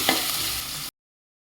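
Onion, green chilli, tomato and ginger garlic paste sautéing in a pan for a mushroom biryani, a short burst of broadband sizzle with a stirring scrape near the start, loud and close, then cut off abruptly.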